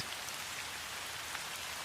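Steady rain pours down on a surface in an even, continuous hiss with faint scattered drop patters, close and unbroken, with no voices.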